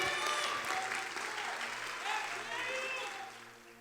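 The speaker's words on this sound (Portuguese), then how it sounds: "Pode aplaudir ao Senhor?" A church congregation applauds in worship, a full wash of clapping mixed with cheering voices, fairly loud and fading slightly toward the end.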